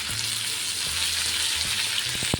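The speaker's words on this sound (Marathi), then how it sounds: "बघू शकता बघा राई जिरा तडतडलेला आहे" Mustard and cumin seeds splutter in hot oil for a tempering, a steady close sizzle with scattered sharp pops, loud and alone with no talk.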